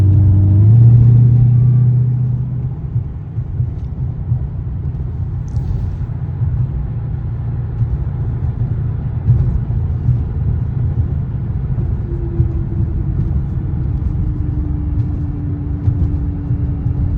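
Low, steady engine rumble from a Dodge Hellcat cruising on the road, heavier for the first couple of seconds and then settling into a constant drone with a faint rising tone near the end.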